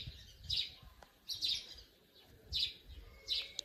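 Call duck duckling chirping in short, high bursts, four separate clusters of peeping spaced about a second apart, fairly close and clear over a quiet background.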